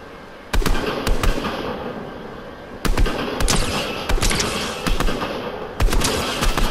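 Fortnite gunfire in loud, sharp bursts of rapid shots, several volleys separated by brief pauses, with a constant background game ambience and no talking.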